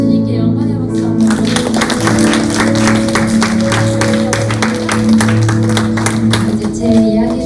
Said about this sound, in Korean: 우리 주님께 영광의 박수 한번